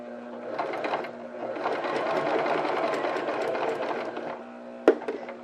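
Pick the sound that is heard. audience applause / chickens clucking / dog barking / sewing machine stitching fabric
sewing machine stitching fabric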